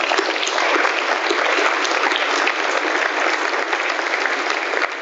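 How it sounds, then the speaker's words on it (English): A hall of fame ceremony audience claps for honored athletes in a dense, sustained burst of applause that stays loud and even throughout, with no voices over it. "let's finish with a round of applause once more for them and for you for being here"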